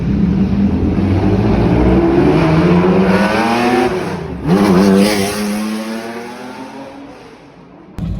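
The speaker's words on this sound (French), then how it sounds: "cette Daytona dans Paris qui lui accélère devant" Ferrari Daytona accelerating on a Paris street, its loud engine climbing through rising revs, briefly dropping as it shifts, then surging again before receding.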